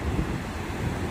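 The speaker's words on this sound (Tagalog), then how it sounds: "Yung alon ah." Ocean waves at Baywalk beach in Lingayen, a continuous broad wash of surf mixed with heavy wind buffeting the microphone, steady and moderately loud with no talk.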